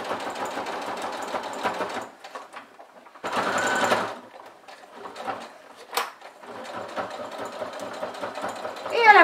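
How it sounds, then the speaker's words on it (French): A sewing machine runs a straight stitch about 1 cm from the fabric edge of a small tissue pouch, whirring steadily in bursts with short pauses between runs, loud and close. "je vais faire une couture au point droit à 1 cm du bord tout le long"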